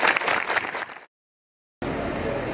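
An audience at a university graduation ceremony applauds, a brief burst of clapping cut off by a short silence before quieter crowd room noise returns.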